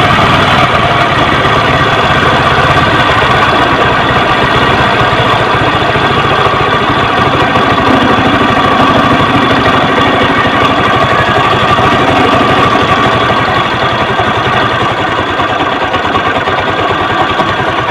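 Kawasaki LS 135 motorcycle engine idling steadily during carburetor air-fuel mixture tuning, a loud, continuous close-up mechanical chatter with an even, unbroken rhythm throughout.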